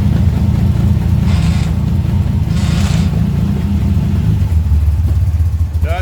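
The engine of a 1938 SS Jaguar 3½ drophead revs as gas is given, a loud, steady low drone with brief higher surges, then it settles lower near the end.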